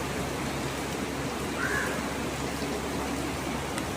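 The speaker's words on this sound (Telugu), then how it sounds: "చూడండి ఎలా పడుతుందో వర్షం" Rain falls steadily in Kerala under heavy cloud, a soft even hiss of drops on surfaces with no other sounds standing out.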